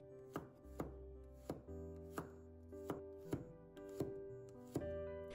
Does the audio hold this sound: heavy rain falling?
no